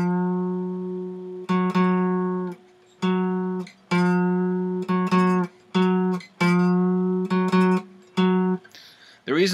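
A guitar string starting on F is bent up a half step, repeated in a series of sustained, ringing notes with gliding pitch, separated by brief pauses and played close and clear.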